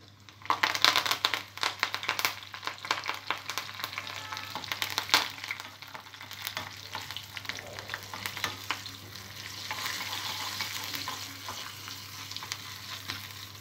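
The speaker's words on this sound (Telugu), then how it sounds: "ఆయిల్ వేడిన తర్వాత తాలింపు గింజలు, వెల్లుల్లిపాయ, ఎండుమిర్చి, కరివేపాకు వేసుకోవాలి." Mustard-type tempering seeds, garlic, dried red chillies and curry leaves crackle and sizzle in hot oil for a Telugu gongura cucumber chutney, with sharp pops early on settling into a steady frying hiss, close and fairly loud, no talking.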